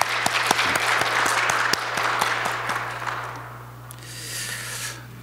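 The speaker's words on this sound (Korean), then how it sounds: "우리 박수로 격려해 드립시다." A church congregation applauds during a Korean Sunday worship service after a music performance. Dense clapping with a few sharp, close claps carries for about four seconds over a steady electrical hum, then fades into quiet room noise.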